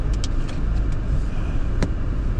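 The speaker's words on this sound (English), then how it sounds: "we are making our way out of the truck stop here and getting back on the freeway." A car pulls out of a truck stop onto the freeway with a steady engine and road rumble, broadband traffic noise filling the background throughout.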